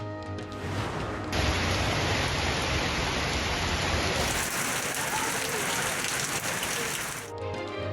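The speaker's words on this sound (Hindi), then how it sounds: "कराची में कहीं हल्की कहीं तेज बारिश।" Heavy rain pours down in Karachi as a steady, loud, dense hiss that holds for several seconds, with no talk over it.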